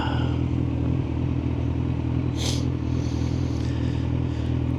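A KTM motorcycle engine drones steadily on the road behind a commuting rider, blended with a constant low road and wind rumble. A brief higher whoosh passes midway through.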